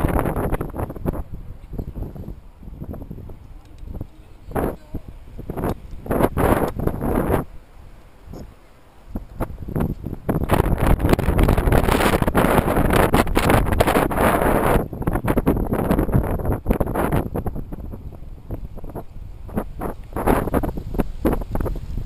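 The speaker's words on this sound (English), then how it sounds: "It's very windy, but it's about 60 degrees Fahrenheit" Strong wind buffets the microphone during a mountain bike ride on the Reedy Creek Trail in Raleigh, North Carolina, a continuous rumbling roar that swells and eases in gusts.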